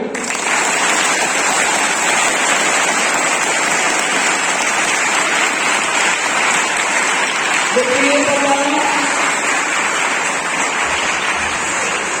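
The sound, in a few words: children clapping for those who told the truth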